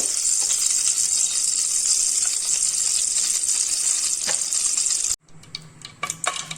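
Ghee heats in a pan with a loud, steady hiss of sizzling for about five seconds, then cuts off abruptly and leaves a few faint pops and clicks.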